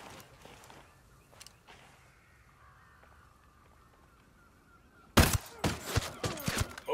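Sniper rifle fire in Ghost Recon Wildlands: after a quiet stretch, a sharp, loud shot bursts out, followed by a cluster of rapid cracks and impacts trailing off.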